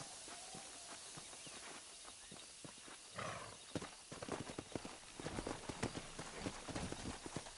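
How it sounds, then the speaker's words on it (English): Video game horse hooves clip-clop in a steady walking rhythm, growing louder and busier toward the end, with no talking. "There should be some horses for us across the way."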